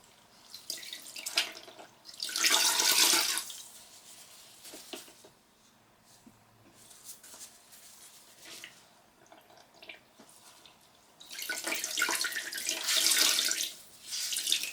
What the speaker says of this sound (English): soak my garment in the water first and let it get soaked